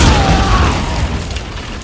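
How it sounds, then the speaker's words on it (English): A bomb goes off in Pavlov VR, a loud close boom with a heavy low-end rumble that slowly decays over about two seconds, with no talk over it. "Die Bombe hat uns hochgegangen."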